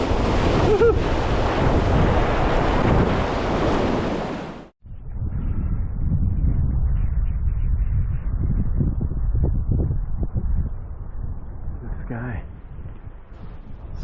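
River rapid rushing in a remote Arctic canyon, loud continuous churning water with wind buffeting the microphone, then a brief cut and a quieter stretch of flowing water with faint splashes.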